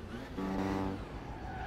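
A car races along in the driving game Alarm für Cobra 11 – Highway Nights, its engine drone rising into a strained, steady tone and then easing off, heard alone without speech.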